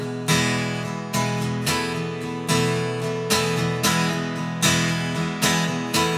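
Strummed guitar chords in a steady rhythmic pattern with clear accented strokes landing at regular points in the bar, close and even in volume, without any talking.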